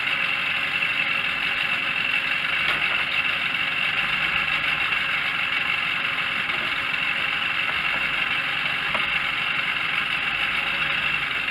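A 50 HP Mercury two-stroke outboard motor runs steadily and continuously at a fairly constant pitch, a loud even drone with a slightly rough, knocking texture and no talk over it.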